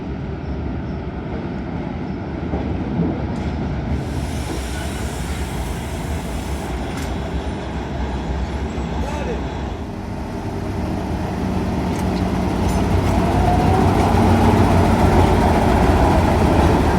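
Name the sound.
freight train from the mine arriving at a facility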